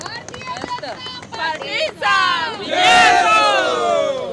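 Victory celebration at the BJP office in Andheri, with a crowd of supporters cheering and shouting in a loud, continuous roar of many voices that swells toward the end.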